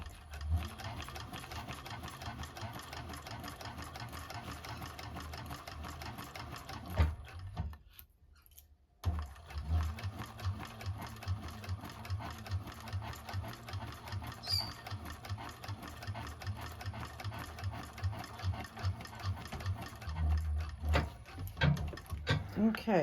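A 1341 cylinder arm sewing machine stitching a bag closed, its close rapid mechanical chatter running steadily with a short pause midway, then continuing with back-stitch bursts while someone talks over it.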